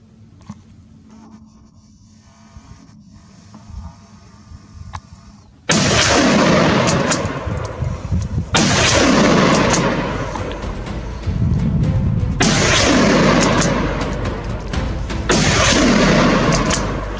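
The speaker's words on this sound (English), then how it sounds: "The sound of gunfire echoed across the hills." Gunshots from a wild boar hunt on farmland ring out across the hills: quiet at first, then a series of loud booming blasts, each trailing off in a long rolling echo.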